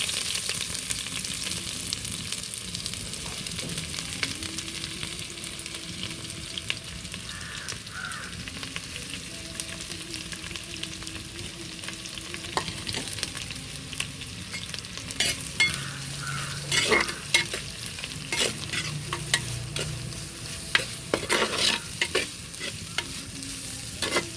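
Onions sizzle in hot oil with green chillies, curry leaves, garlic and ginger for a Kottayam-style chicken curry, a steady frying hiss that runs throughout, with a spoon scraping and stirring now and then, louder in the second half.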